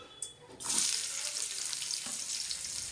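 Onion and garlic hitting hot oil in a home kitchen pan, a steady close hiss of frying that swells suddenly and holds, with a brief clink just before.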